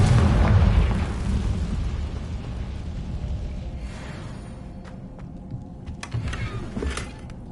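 Blasting spell explosion from the video game Hogwarts Legacy, a loud booming burst at the start that fades into a rumbling tail, with scattered smaller crackles and game effects afterward.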